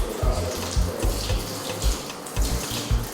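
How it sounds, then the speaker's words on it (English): A kitchen tap runs cold water over freshly blanched food, a steady close splashing stream with gentle pulsing and no voices. "So you might just decide to put some cold water, right?"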